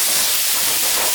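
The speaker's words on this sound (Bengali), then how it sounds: "মশলাটা আর একটু ভাজা ভাজা হবে" A spice paste of turmeric, salt, ginger, cumin and green and red chillies fries in a pan for a rohu fish curry, giving a loud, steady, close hiss of sizzling oil without pause.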